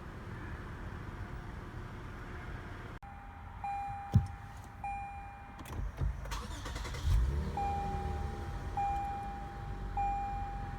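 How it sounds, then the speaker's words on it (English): A 2016 Lexus GS350 F-Sport is started by push button with a foot on the brake: a sharp click, then the engine catching and settling into a smooth idle inside the cabin, with a few soft electronic chimes repeating. "put your foot on the brake and hit the dash mounted button to start"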